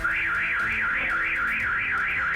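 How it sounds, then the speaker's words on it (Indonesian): A car alarm goes off after the car's side mirror is snapped off outside a house. A loud, steady warbling siren rises and falls in a regular cycle, sounding alone and unbroken the whole time. "Mereka langsung kabur setelah mematahkan spion dan alarm mobil berbunyi."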